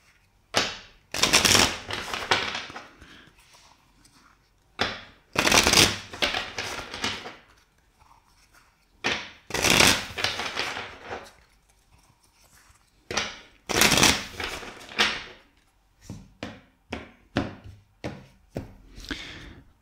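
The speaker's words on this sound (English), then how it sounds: "let's shuffle four times the deck" Tarot cards are shuffled in repeated bursts of rapid riffling and flapping, separated by short pauses, close and crisp.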